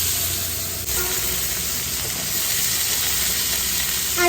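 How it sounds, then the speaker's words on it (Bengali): Potatoes fry in a pan alongside fish, giving a loud continuous sizzling hiss that stays even throughout, with a brief clatter near the start and no talking. "আলুগুলো দেবো সেগুলো একটু ভেজে দেবো।"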